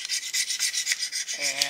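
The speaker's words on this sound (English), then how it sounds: "I'll follow that up with a honing stone to make sure I don't have any nicks in it" A honing stone rubbed back and forth across the flange of a flex plate for a Studebaker V8, giving steady close rasping strokes in an even rhythm, with a faint ringing tone from the metal near the end.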